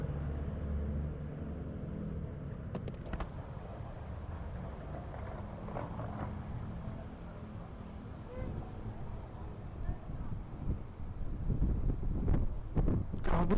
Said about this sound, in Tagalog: Grabe lakas ng hangin, dinadala yung motor.